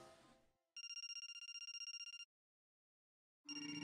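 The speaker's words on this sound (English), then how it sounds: "My cell phone." A cell phone rings in The Silver Case video game, a bright electronic trilling ring lasting over a second, a silence, then the ring starting again, clean with no talk.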